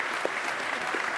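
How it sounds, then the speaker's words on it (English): A conference audience gives sustained applause for a panel, an even wash of clapping from a large crowd, steady and fairly loud for the whole moment. "A round of applause for our panel."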